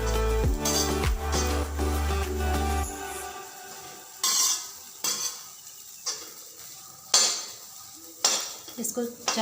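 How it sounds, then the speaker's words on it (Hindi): A spoon scrapes and clinks against a pan while bread halwa is stirred and roasted until brown, with a steady sizzle at first, then separate scraping strokes every second or so, close and fairly quiet. "इसको चलाते रहना है।"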